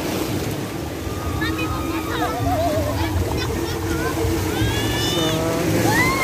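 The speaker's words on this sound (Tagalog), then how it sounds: "Ang lakas ng alon actually. Sobrang lakas." Strong afternoon ocean waves roll onto a beach as a steady, rushing surf roar with wind, heard under close conversational talk and a voice.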